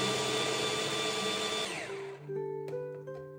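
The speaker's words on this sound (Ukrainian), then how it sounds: "вмикаю блендер і перебиваю до однорідної маси" An electric blender whirs loudly at a steady high pitch while blending ripe bananas, eggs and cinnamon, then winds down and stops, leaving faint clicks and knocks.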